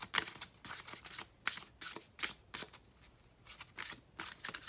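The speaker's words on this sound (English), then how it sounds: "Let me pull a romance angel oracle card for you" Oracle cards being shuffled by hand, a quiet run of quick riffling bursts in an uneven rhythm with short pauses, close and soft, no talking.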